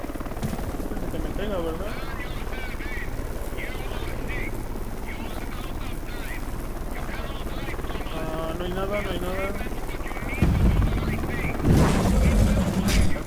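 A helicopter in the video game Dark Sector keeps up a steady low rotor rumble throughout, beneath excited commentary from a man, and swells louder near the end.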